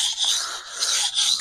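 A kitchen knife is drawn over an 8000 grit whetstone in steady back-and-forth strokes, producing a continuous bright, hissing rasp that swells and eases with each pass.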